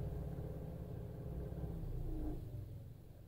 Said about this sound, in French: Ok, c'était ça, vous avez entendu? La ventilation, elle s'est arrêtée.